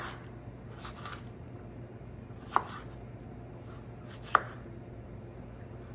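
A knife chops cucumber into fine dice on a board, with soft irregular cuts and two sharper, louder knocks standing out against quiet background hiss.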